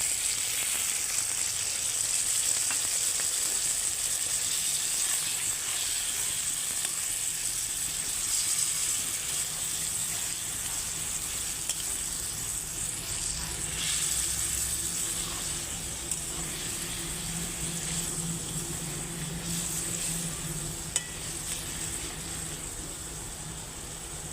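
Water splashed into a hot pan of begun posto, an eggplant and poppy-seed curry, sets off a sustained, even sizzle and hiss that holds for many seconds.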